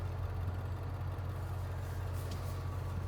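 A farm tractor engine running steadily, a deep constant low rumble with a faint hiss above it, close and unchanging through the clip, with no talking.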